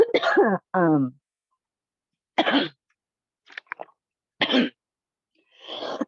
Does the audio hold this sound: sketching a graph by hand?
no